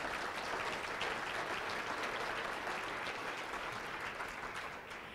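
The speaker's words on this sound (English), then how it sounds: "you can clap for everyone who's here." A town hall audience on water planning claps together in a dense, even round of applause lasting several seconds, heard from a modest distance and easing slightly toward the end.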